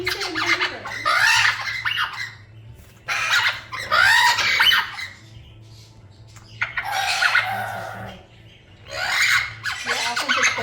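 Pet parrot squawking in loud, harsh bursts, several screechy calls of a second or two each separated by brief quiet gaps, close by with a low hum beneath.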